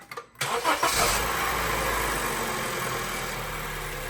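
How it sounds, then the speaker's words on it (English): A Honda Civic engine cranks briefly, then catches and settles into a steady, close idle hum. "Time to start the car now."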